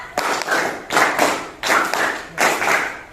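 Group hand clapping from a classroom counting game: four evenly spaced bursts of many hands striking together, steady in rhythm, close and strong.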